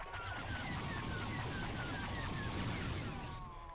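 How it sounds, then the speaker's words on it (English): A droid tri-fighter in Garry's Mod's Star Wars ships mod fires blasters, a rapid run of about ten evenly spaced zapping shots over a loud continuous engine roar. "Left click to get some blaster fire."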